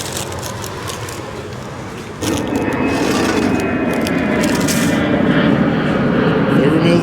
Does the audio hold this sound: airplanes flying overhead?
yes